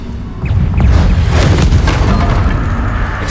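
In Hogwarts Legacy, a Bombarda blasting spell goes off as one loud, close explosion, a heavy booming burst with crackling debris that rumbles on for a few seconds.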